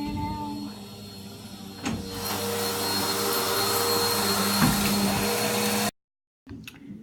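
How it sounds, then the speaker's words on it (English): A household vacuum cleaner running in a nearby room, a loud steady droning roar that swells after a couple of seconds, then cuts out abruptly near the end before a brief faint noise. "Sorry about that, my mom came to vacuum."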